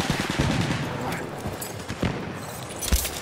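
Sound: enemy machine gun firing in a video game

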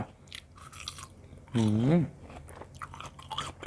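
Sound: chewing large candied tamarind pods

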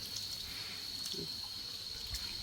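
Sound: water running while washing food

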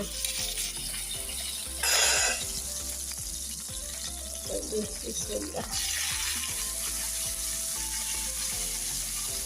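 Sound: meat broth frying and sizzling in a pan

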